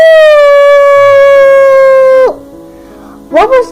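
A wolf howl performed by a human voice imitating the animal: one long, loud, sustained note sliding slowly downward before breaking off, followed by a short wavering vocal burst.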